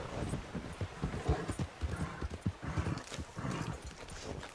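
A horse in Red Dead Redemption 2 walks with quick, rhythmic clip-clop hoofbeats, soft and fairly close, repeating steadily across the span with a faint background ambience and no speech.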